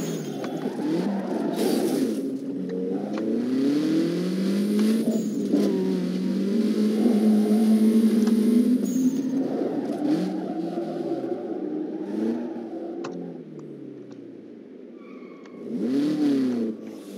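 A car engine in the racing game Need for Speed Underground 2 hums and revs in rising and falling sweeps while the car is parked, steady and fairly close, with no talk.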